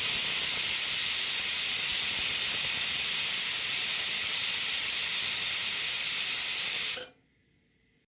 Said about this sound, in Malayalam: എനിക്കിവിടെ 6 വിസിലടിക്കണം ഈ കുക്കറിന്